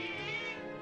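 A cat in the video game Triangle Strategy gives a single drawn-out, close and clear meow, heard on its own.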